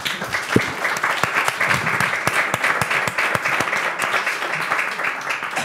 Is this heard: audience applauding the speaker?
yes